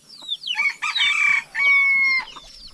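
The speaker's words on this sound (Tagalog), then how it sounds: "nandito yung mga alagang manok ni Pilimon." Close chicken clucks followed by a rooster's crow, loud and clear, the calls stretched into a drawn-out cry lasting a couple of seconds.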